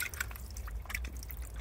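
Water drips and trickles in irregular spatters, close and faint, from a computer being washed out.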